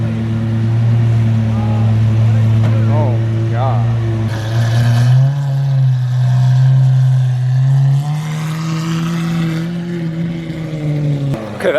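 A loud straight-piped car exhaust with no catalytic converters, part of a street car scene alongside a Lamborghini Aventador widebody, drones in a strong low rumble that swells and settles over nearly twelve seconds while people talk over it.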